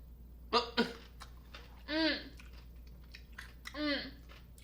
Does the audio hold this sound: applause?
no